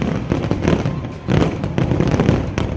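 Loud fireworks burst at a fountain celebration, with dense back-to-back crackles and booming pops that fill the whole stretch.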